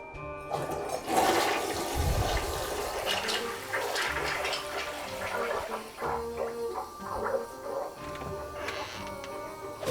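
A toilet flushes in an animated story, a loud rushing gurgle of draining water followed by the tank refilling with a lighter trickling hiss, close and alone without voices.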